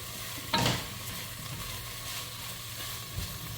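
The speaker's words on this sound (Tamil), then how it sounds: "நான் ஒரு 3 மஷ்ரூம், பெரிய மஷ்ரூம் கட் பண்ணி போடுறேன்." Tomato and large cut mushrooms frying in a pan, a low steady sizzle with a sharp scrape of the spoon early on and another faint stir later, quiet and close.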